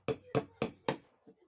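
A hammer drives a small nail through a metal jar lid fitted on its jar, four sharp evenly spaced strikes followed by a fainter fifth tap, close and loud with no speech.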